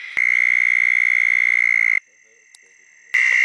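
A toad calls from the middle of a road with a loud, sustained, high-pitched trill, pauses for about a second, then starts trilling again close by.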